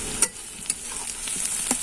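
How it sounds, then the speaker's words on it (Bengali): Chopped onion frying in oil in a pan, with a soft steady sizzle broken by a few brief stirring scrapes and clicks, close and fairly quiet, no voices. "পেঁয়াজটাকে হালকা একটু ভেজে নেব"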